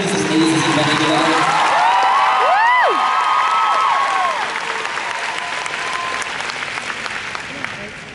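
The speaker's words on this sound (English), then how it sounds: "Can everybody please give them a round of applause for putting this amazing event together?" Audience applause and cheering fill a crowded hall at VidCon 2012, a dense steady clapping with scattered whoops and shouts, loud throughout and thinning slightly toward the end.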